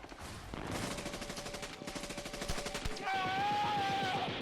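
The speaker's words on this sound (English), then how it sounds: "Rapid gunfire." Rapid bursts of gunfire rattle in quick succession over several seconds, fairly faint and muffled, with a whine rising near the end.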